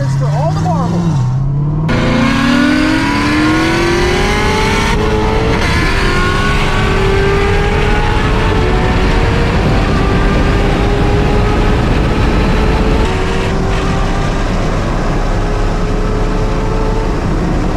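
A 1,000-horsepower Corvette ZR1 and a twin-turbo Hellcat drag racing: loud, continuous engine roar with climbing pitch through each gear, sustained and close for the whole run.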